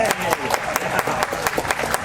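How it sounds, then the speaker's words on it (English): A crowd at an outdoor summer concert series on Veterans Night claps for a sponsor, a short burst of scattered hand claps with distinct individual claps and crowd noise around them. "Let's give Pratt & Whitney a round of applause."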